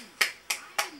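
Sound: baby clapping hands

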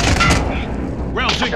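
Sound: airstrike explosions in Call of Duty Warzone video game

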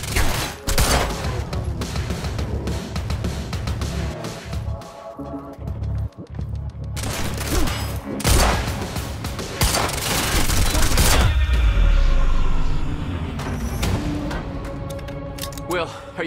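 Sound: gunfire in Quantum Break video game

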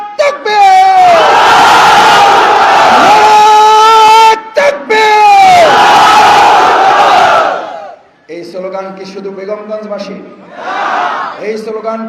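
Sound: crowd chanting political slogans at a rally

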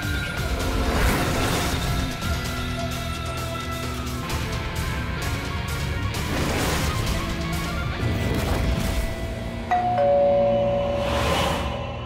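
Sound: doorbell ringing repeatedly

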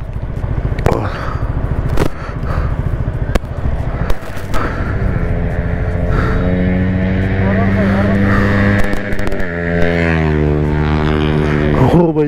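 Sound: racing two-wheeler with loud exhaust

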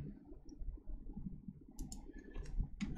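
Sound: computer mouse clicks while digitizing a shape

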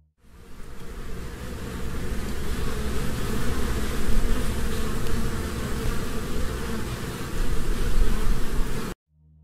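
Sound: buzzing bees or other insects in a Minecraft ARG video

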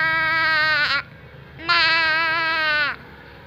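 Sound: voice imitating a goat bleating

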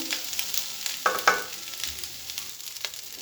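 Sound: stirring pasta with turmeric and spice mix in pan

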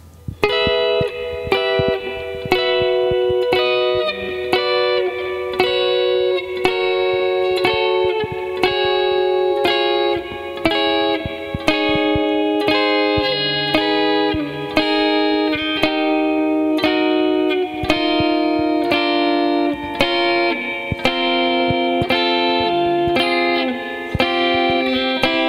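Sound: arpeggio played at a faster tempo

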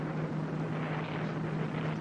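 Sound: rocket liftoff engine roar

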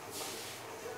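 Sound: portable welding torch gas valve opened slightly, hissing

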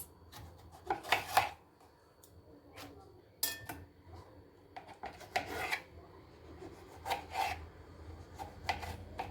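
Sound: slicing vegetables for a diet salad

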